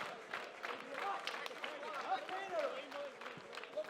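A wrestling crowd at a live pro-wrestling show cheers and claps continuously, a dense, mid-distance roar of voices and scattered clapping with no break.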